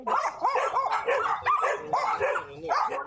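Dog barking repeatedly at a garden gate in a village, a steady run of close, loud barks and yips in quick rhythm with no pauses.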